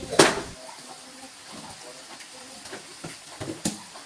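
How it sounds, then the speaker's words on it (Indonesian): Water is splashed across a house floor to wash away swarming termites, with one sharp close splash at the start, then softer trickling and hiss. "Jadi saya siram-siram semua ya teman-teman lantainya."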